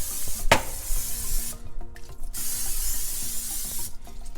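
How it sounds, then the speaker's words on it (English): A short hissing burst of cooking spray misted onto an oven rack before roasting turkey, close and fairly loud, over a steady kitchen background with small clicks and a few quieter pauses. "I will just spray the rack a little bit so my turkey don't stick on the rack"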